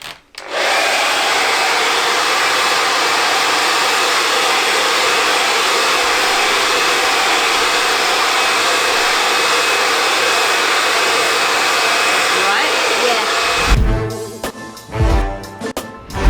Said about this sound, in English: when you're blow drying out hair